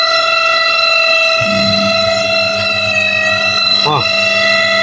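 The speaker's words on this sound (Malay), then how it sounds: "Boleh dengar tak? Mesin mengilai." A Toshiba VH-J120MM semi-automatic washing machine squeals during its spin cycle, a high steady whine of layered tones, joined partway by a lower hum and a brief wavering chirp.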